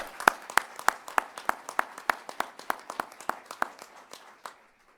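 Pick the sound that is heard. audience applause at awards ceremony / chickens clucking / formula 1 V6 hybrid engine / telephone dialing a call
audience applause at awards ceremony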